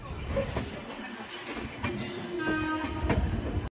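The Gaur Express passenger train from Sealdah with new LHB coaches rolls along steadily with a continuous rumble and rhythmic clacking of wheels, close and fairly loud, with no talking.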